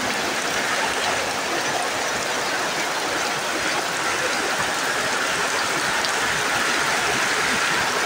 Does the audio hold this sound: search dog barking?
no